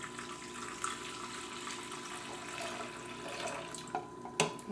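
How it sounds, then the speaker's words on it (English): Warm water and milk poured slowly into a bowl for dinner roll dough, a quiet, steady trickle with a few faint clinks and splashes near the end. "I'm going to pour it in slowly so I don't splatter the yeast everywhere"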